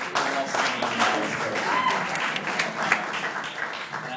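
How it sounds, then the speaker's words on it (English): Wedding guests applaud at a reception, a continuous wash of clapping and crowd murmur with faint voices mixed underneath. "let's clap for the Walshes"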